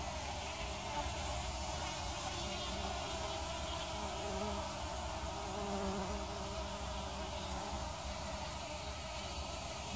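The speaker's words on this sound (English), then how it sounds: "These are not honeybees, by the way. These are bumblebees." Bumblebees hum at their nest in a constant, dense buzz that stays level throughout, close and steady with no pauses and no talking.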